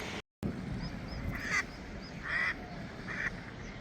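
Duck or goose honking in three short bursts outdoors near the Washington Monument, calls fairly loud over steady wind and ambient noise, no talking.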